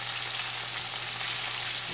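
Chicken sizzles steadily in a favorite, overloaded frying pan while being browned for orange chicken, a loud, continuous hiss with no talking.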